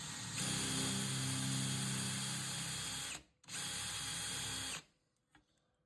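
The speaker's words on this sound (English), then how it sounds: "The video shows the holes being center drilled with a center drill bit in the pistol drill." A pistol drill with a center drill bit whines steadily as it center drills holes in metal, running in two bursts, a longer one and then a shorter one, with a brief pause between.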